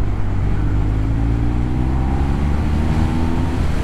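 A BMW R1250R motorcycle accelerates in third gear on an open road, its loud, continuous engine drone climbing steadily in pitch alongside heavy wind rush, with no voices.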